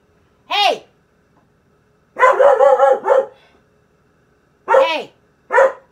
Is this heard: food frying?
no